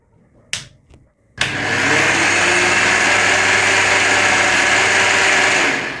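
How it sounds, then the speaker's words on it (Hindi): A professional rotary hammer drill switched to drill-only mode starts up after a couple of faint clicks and runs at a steady, loud, continuous whine for several seconds, with no hammering pulses. "अब मैं आपको इस मशीन की आवाज भी सुनाता हूं"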